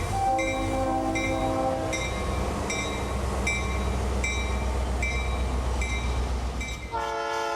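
A model railroad Amtrak F40PH locomotive runs with a sustained rumbling motor drone while its horn sounds in repeated long tonal blasts, loud and steady throughout, ending with a different chord-like horn.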